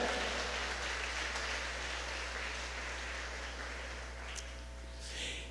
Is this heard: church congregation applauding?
yes